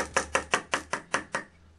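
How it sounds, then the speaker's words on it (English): Liquid sloshing inside a Temptu makeup airbrush pod, shaken and dumped into a sink: seven evenly spaced sharp splashy knocks at a brisk rhythm, close and fairly loud, with no voices. "It sounds like this when you're dumping it out in the sink."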